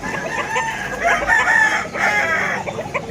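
A chicken crows loudly in a drawn-out call, with scattered clucking and noise around it at a pet market in Malabon, Philippines.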